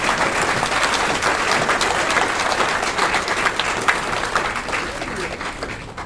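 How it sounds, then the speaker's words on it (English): Loud, sustained applause from a crowd at a Carolina Beach Music Hall of Fame induction ceremony, steady clapping filling the room throughout with a murmur of voices mixed in. "Give a round of applause to my friends."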